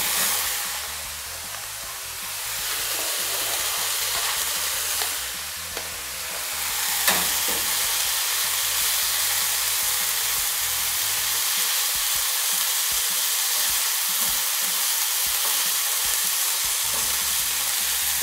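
Soy sauce and tofu frying with mushrooms in a pan, a steady close sizzle with scraping stirs throughout, louder after the additions, with no talking.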